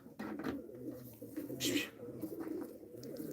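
Soft, low pigeon coos repeat in a steady rhythm, fairly close, with a brief rustle in the middle.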